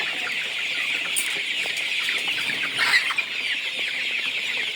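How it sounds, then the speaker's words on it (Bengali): A flock of hungry Sonali chickens on a poultry farm keeps up a steady chorus of overlapping clucks and chatter, with a few louder calls rising out of the dense background. "তো দেখতেছেন মুরগিরা খুব ক্ষুধার্ত।"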